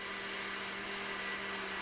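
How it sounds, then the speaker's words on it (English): Kitchen blender running steadily to crush ice, a continuous even whir at moderate level with no pauses and no talking. "Keep the blender on until you don't hear the ice being crushed anymore."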